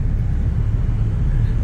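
A car rolls along during a driving lesson, producing a heavy, steady low engine and road rumble close to the cabin. It holds without pause, with no clear speech on top.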